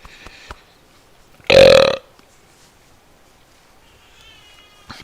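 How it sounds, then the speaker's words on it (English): One loud, drawn-out burp of about half a second, close and prominent against a quiet room during a live story reading, with faint small noises before and after. "Burp."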